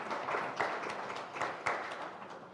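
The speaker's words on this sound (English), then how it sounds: "that was a big round of applause" Scattered clapping rises in a small press room after a DTM motor race at Oschersleben, a thin, uneven patter of hands with a few sharper individual claps, fairly quiet and brief.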